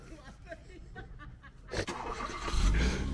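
A Škoda Fabia engine cranks and catches partway through, then runs loud and close with a rising rev, while voices talk over it.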